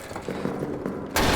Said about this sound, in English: only to trigger a grenade trap.